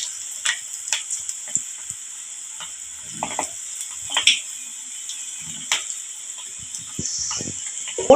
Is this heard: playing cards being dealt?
no